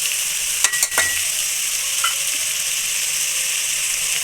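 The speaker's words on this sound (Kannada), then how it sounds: "ಒಂದು ನಿಮಿಷ ತರಕಾರಿನ ಚೆನ್ನಾಗಿ ಎಣ್ಣೆಲಿ ಫ್ರೈ ಮಾಡ್ಕೊಳ್ಳಿ" Vegetables frying in oil in a pot for wedding-style vegetable pulao, a steady hiss of sizzling with a few clattering stirs of a spoon early on, no talk.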